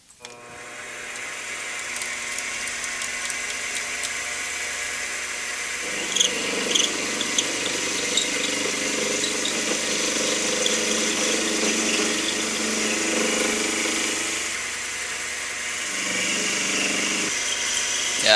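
An aluminum workpiece turns on a lathe with an electronic leadscrew, a steady mechanical drone with a broadband cutting hiss that swells in the middle and again near the end, running alone and fairly close.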